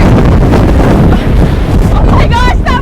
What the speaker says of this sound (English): Oh my gosh, that was a huge gust of wind.